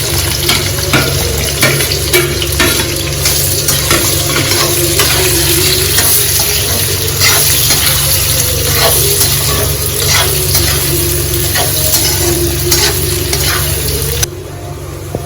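Chopped onions frying with roasted garlic in a pan for matar paneer, a steady close sizzle with repeated scraping stirs throughout and no voices.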